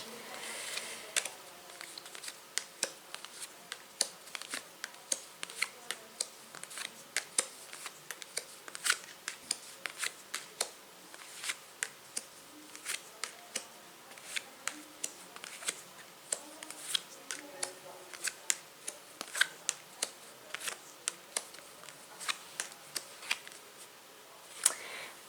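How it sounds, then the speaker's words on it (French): Oversized tarot cards being shuffled by hand, a steady run of sharp papery riffles and snaps, close and fairly quiet, with no talking. "Ensuite, on va bien mélanger. Super grandes les cartes, c'est super dur à mélanger."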